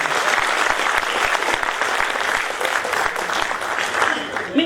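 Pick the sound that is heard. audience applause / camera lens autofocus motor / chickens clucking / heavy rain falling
audience applause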